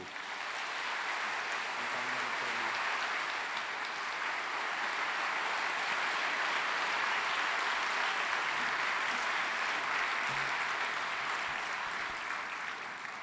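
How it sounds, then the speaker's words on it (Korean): Large congregation applause in a church after a prayer, a broad, even roar of clapping that holds steady and loud for many seconds, alone without voices. "큰 박수로"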